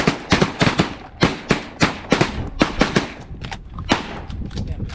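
Repeated shotgun fire during a North Dakota duck and goose hunt, a rapid volley of loud, sharp blasts in irregular bursts from several guns close by, with shouting voices mixed in.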